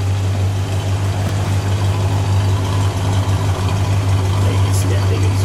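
A 1960 Dodge Dart Phoenix engine idles steadily with a low, even rumble, close by and continuous throughout.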